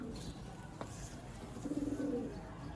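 Sialkoti pigeons coo softly and fairly close, with a low burbling coo rising near the end over a faint background hiss and a brief click, with no voices.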